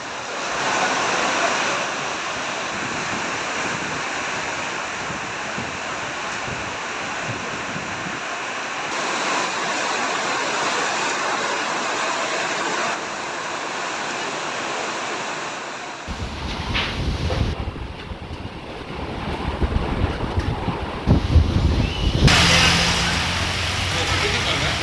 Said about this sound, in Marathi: वादळी वाऱ्यासह जोरदार पाऊस झाला